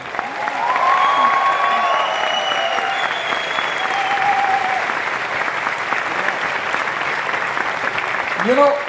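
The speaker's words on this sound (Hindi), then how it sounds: "ब्रॉन्ज डायरेक्टर्स के लिए सबसे ज्यादा ताली" An audience at a Vestige award function bursts into sustained applause for bronze directors, a dense, loud wash of clapping that holds steady for several seconds, with a voice briefly heard over it.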